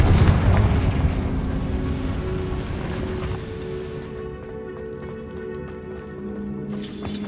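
Confringo spell explosion in the video game Hogwarts Legacy, a loud booming blast at the start that decays into a long rumbling tail under steady tonal game music.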